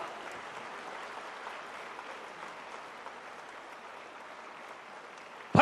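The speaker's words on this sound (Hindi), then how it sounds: "भरपूर तालियां एक दफा फिर लेडीज एंड जेंटलमैन" Steady applause from an audience fills a ceremony in Pakistan honouring the prime minister, continuous and moderately distant, ending with a sharp loud bump.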